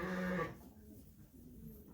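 A ewe with triplet lambs lets out one brief, clear bleat at the start, followed by faint farm ambience.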